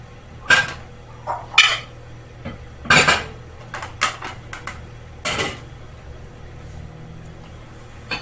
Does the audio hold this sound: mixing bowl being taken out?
yes